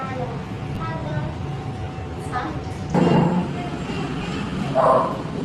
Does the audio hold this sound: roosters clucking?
no